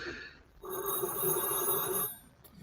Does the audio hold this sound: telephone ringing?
yes